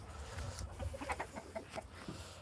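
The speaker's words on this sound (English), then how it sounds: "it seems like all the chickens are here." Chickens cluck and murmur in their coop, a close, busy stream of short overlapping clucks and soft calls with no talking.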